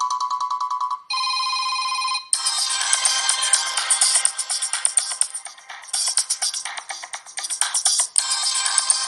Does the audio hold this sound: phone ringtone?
yes